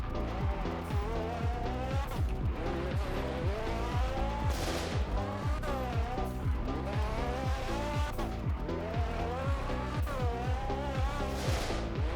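A car in the Roblox video game spins out, with its engine revving in rising and falling sweeps and tires squealing and skidding in repeated bursts, loud and continuous without speech.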